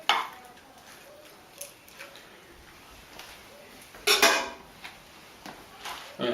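Pesto pasta stirred in a pot, with sparse scraping and clinks of a utensil against the metal, one louder clatter midway, close but fairly quiet.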